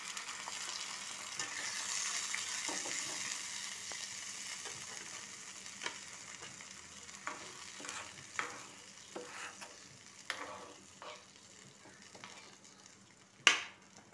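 Fish frying lightly in a pan after a yogurt and soy sauce mix is poured in, with a soft continuous sizzle and intermittent stirring clicks and scrapes, ending in a sharp clack.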